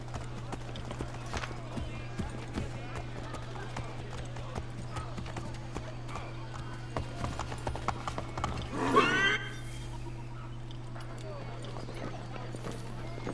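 Horse hooves clip-clop steadily and a horse whinnies briefly in Assassin's Creed 3, heard over a constant game background hum with a busier burst near the end.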